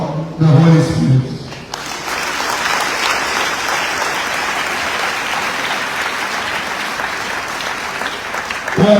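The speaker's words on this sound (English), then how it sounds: "those from Imo State branch clap for the Holy Spirit" A church congregation from an Imo State branch of a ministry claps loudly and continuously in praise of the Holy Spirit, after a brief burst of speech at the start.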